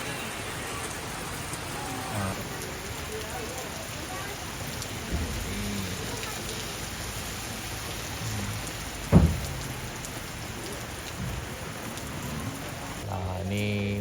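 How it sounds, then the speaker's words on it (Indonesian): Heavy rain pours steadily at a mountain roadside rest stop, a dense close wash of drops on surfaces with one sharp knock partway through. "Hari hujan."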